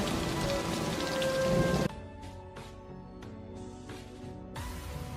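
Heavy rain pouring down during a storm in a jungle, loud and steady throughout, with the mix dropping abruptly partway into a softer patter with faint low rumbles.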